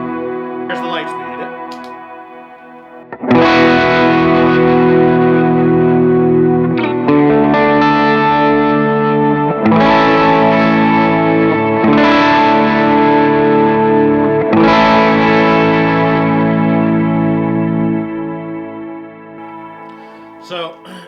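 An electric guitar runs through a Lightspeed overdrive pedal, a few quiet notes giving way to loud, gritty strummed chords that ring out in several sustained swells with a touch of echo.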